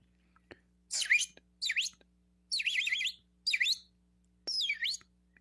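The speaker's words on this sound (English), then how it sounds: "We hear birds." Five short bursts of bird chirping, bright and twittery, spaced apart with quiet gaps between them, over a faint steady hum.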